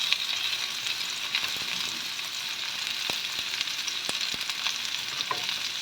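Chopped onions and spring onions fry in a pan with a dense, even sizzle lasting several seconds, broken by a few faint clicks of a utensil, close and without speech.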